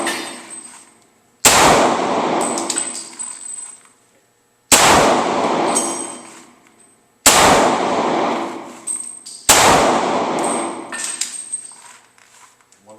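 Four sharp handgun shots fired at a target, each a loud, abrupt crack with a ringing decay, spaced a few seconds apart with quiet between them.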